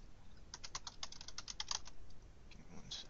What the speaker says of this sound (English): User error on the typing of the password.